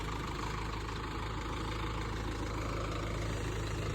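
A heavy diesel tractor engine idles steadily and close by in a berseem field, a continuous low chugging rumble with no voices.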